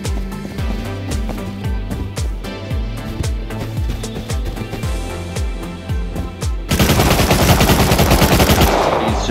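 Rapid automatic gunfire in the survival video game Rust, sustained bursts over a steady backdrop, swelling into a dense, loud barrage near the end.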